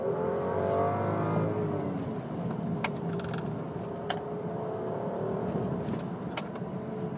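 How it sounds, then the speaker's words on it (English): A BMW Active Hybrid 5 car under full throttle on a twisty hill circuit, its engine note rising steadily with a smooth, refined hum, heard from inside or close by with faint road and wind noise. "Bury your foot to the floor and it reminds you that it's a BMW at heart."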